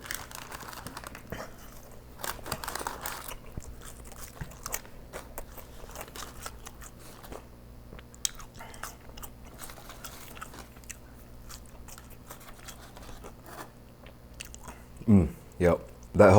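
Crunchy chewing of McDonald's golden French fries, soft and close, with intermittent bites through a quiet room and a louder burst of crunching near the end.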